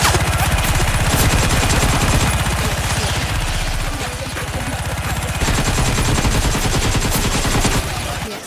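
Sustained automatic gunfire from the Russian FNAF 5 video game, a dense rapid rattle of shots that runs for several seconds with brief dips, loud and close, no talk.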